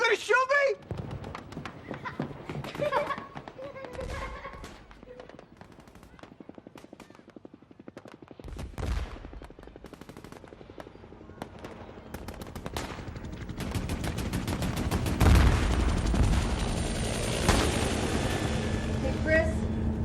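Gunfire bursts in a tense film scene, loud and dense shots rising through the second half over a busy mix, with people talking throughout.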